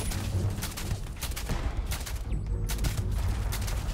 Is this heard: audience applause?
no